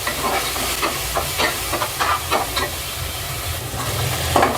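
Browned onions and tomato fry for an avarekalu gravy, a close, loud sizzle and hiss in a pan with repeated scraping strokes of a stirring spoon.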